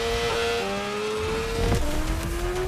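Honda CB1000R motorcycle engine in The Crew Motorfest racing game, a steady loud engine drone with shifting pitch as it revs and changes gear, with a brief skid-like burst partway through and no talking.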